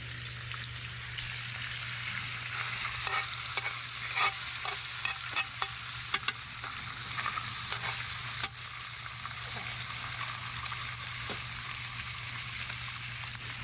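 Trout sizzles steadily in butter in a pan over an open fire, with scattered crackles and pops running through a constant frying hiss; no voices.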